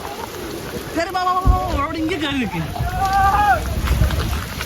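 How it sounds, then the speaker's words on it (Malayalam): Sudden heavy rain pours down at Calicut beach as a steady wash of noise beneath people talking nearby. "നല്ല മഴയാണ്."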